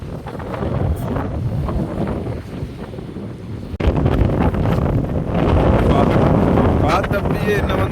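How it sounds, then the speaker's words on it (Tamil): Strong storm wind roars and buffets the microphone continuously on a coast where seawater has flooded a village, growing louder halfway through, while a voice speaks underneath. "காற்று வந்து அப்படியே தள்ளுது"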